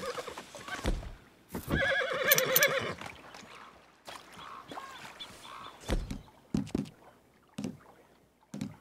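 A horse being ridden in Red Dead Redemption 2 gives a loud whinny early on, followed by scattered hoof clops, snorts and movement noises amid quieter gaps.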